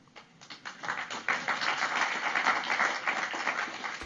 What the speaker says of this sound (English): that applause is very lukewarm